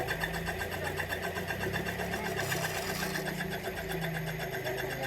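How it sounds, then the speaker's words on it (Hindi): A ceiling fan with four winding wires and a fitted capacitor runs steadily, giving a continuous humming whir with a faint mechanical rattle, close and unbroken throughout. "ये पंखा चल रहा है।"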